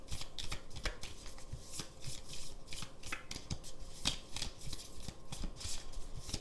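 Tarot cards for a love reading are shuffled and drawn by hand, a continuous close riffling and flicking of cards with rapid rhythmic snaps throughout and no talking.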